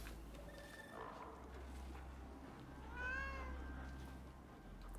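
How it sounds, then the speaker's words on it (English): A tamed cat in the survival video game Icarus gives two soft meows, a short one early and a longer, rising one later, faint over a low steady hum. "Yeah, you're a good kitty."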